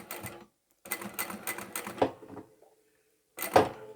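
A sewing machine stitches a seam on a fabric market tote bag in short rapid whirring bursts, close and clear, pausing briefly between runs.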